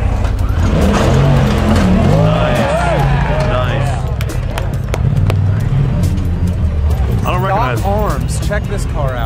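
An off-road race car on stock upper A-arms roars and skids across a desert course, its loud, continuous engine drone heavily mixed with crowd voices and talk nearby.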